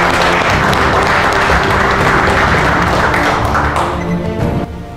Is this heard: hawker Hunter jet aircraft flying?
no